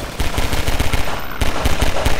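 Sustained rapid automatic gunfire from a weapon in the video game Half-Life 2 Episode 1, loud and dense with rattling shots throughout and a brief dip midway, no voices over it.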